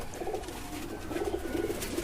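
A white pigeon gives soft, repeated low coos, close by and fairly quiet, with no talking.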